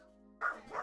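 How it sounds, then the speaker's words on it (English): A dog barks twice in quick succession, loud and close, after a steady low hum, with no talking. "Dogs being dogs."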